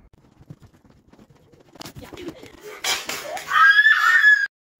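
A person screams, a sharp high-pitched cry building after soft rustling and muffled voices, loud and close, then cutting off abruptly.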